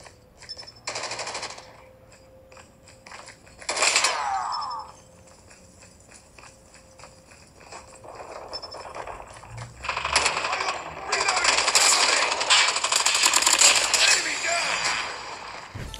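Gunfire from the mobile shooter Call of Duty Mobile played on a Xiaomi Mi 11 phone, with bursts of rapid shots standing out loudly over continuous game sound and effects, heaviest toward the end.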